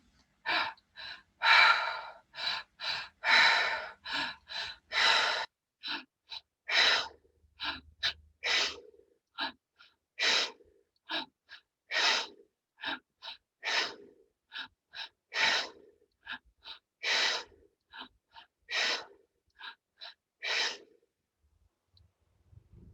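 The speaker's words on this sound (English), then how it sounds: "in through the belly, in through the chest, and out through the mouth. 10 activated spirit breaths." Guided deep breathing exercise, breathing in through belly and chest and out through the mouth: a steady series of about two dozen sharp, close breaths in a quick repeating rhythm, loud and alone with no voices.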